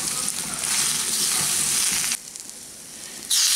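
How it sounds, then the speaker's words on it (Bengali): Potato and brinjal pieces fry in hot oil in a wok over medium flame, a loud close sizzle that dips briefly quieter midway, then surges again as stirring resumes. "এখন আমি এগুলোকে ভেজে নিচ্ছি। ভালো করে নেড়ে নিলাম তেলের মধ্যে।"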